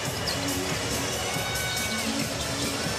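An NBA arena crowd roars after a three-pointer, a dense, sustained cheer that fills the space evenly from start to finish.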